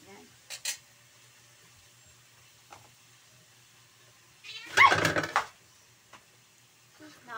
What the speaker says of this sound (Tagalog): Naapakan ko yung pusa.